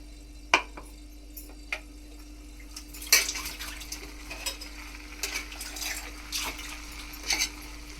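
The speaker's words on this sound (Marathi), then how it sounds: "भाजी व्यवस्थित परतून घ्यायची" Mixed vegetables for bhogi bhaji are stirred in a pan, with sparse metallic spoon scrapes and clinks over a quiet low hum, the strokes growing a little busier midway.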